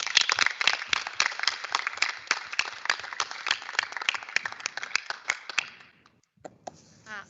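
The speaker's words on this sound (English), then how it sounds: "could we all give them a big round of applause?" A small audience at a board meeting claps in a brisk round of applause with distinct individual hand claps, then it stops and a voice begins.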